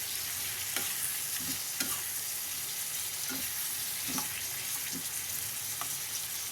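Tomatoes sizzle steadily frying in a pan for tomato pickle while a spoon scrapes and stirs at intervals, the frying hiss constant and close, no voices.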